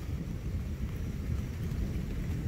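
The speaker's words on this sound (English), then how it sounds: "Listen to that thunder." Low, steady rumble of thunder rolling through a summer storm on August 31, 2020, a continuous distant boom with light wind and rain noise, no talking.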